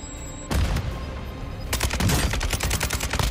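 Automatic weapons firing in Warzone 2: a sharp shot, then a dense, loud run of rapid rounds.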